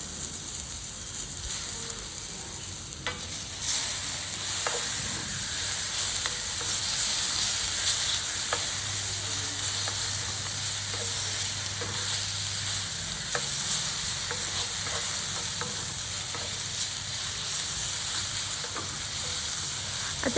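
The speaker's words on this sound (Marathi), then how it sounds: "मी हे लोखंडी कढईत करत आहे." Spicy vermicelli with chopped tomato fries in an iron kadhai, a continuous close hiss and sizzle with faint stirring scrapes, steady throughout without speech.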